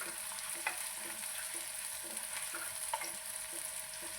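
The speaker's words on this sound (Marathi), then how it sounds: "कांदा छान आपल्याला गुलाबी रंगावर येईपर्यंत छान असा परतून घ्यायचा आहे." Chopped onion fries in a pan until pinkish, with a steady close sizzle and soft rhythmic scrapes of a spoon stirring through it, no voices.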